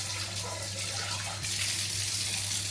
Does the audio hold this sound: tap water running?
yes